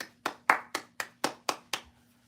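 One person claps seven times in a steady, even rhythm, close and sharp in a quiet room, with no other voices.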